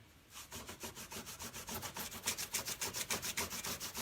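A folded Brillo steel-wool pad scrubbing a surface on an Airstream trailer, a steady rhythmic back-and-forth rasp of about five strokes per second, close and fairly loud, with no talking.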